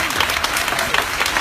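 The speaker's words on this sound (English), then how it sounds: "can I get a big round of applause for all the fourth grade teachers" Children applauding fourth grade teachers, a dense, steady round of clapping from many small hands that holds at an even level throughout the short burst.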